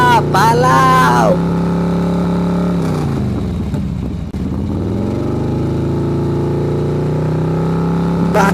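A vehicle engine drives fast in a steady, droning hum with a swooshing dip midway, while a brief shouting voice is heard at the start and again at the end.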